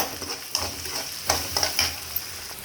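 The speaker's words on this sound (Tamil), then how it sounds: "வெங்காயம் பூண்டு பச்சை மிளகா கருவேப்பிலை போட்டுக்கணும் வெங்காயம் வதங்கிறதுக்கு கொஞ்சமாக சால்ட் ஆட் பண்ணிக்கணும் சால்ட் ஆட் பண்ணி நல்லா வதக்கி விடணும்" Onions, garlic, green chilli and curry leaves sizzle softly in a pan while being stirred, with a steady frying hiss and a few sharper scraping clicks of a spoon against the pan.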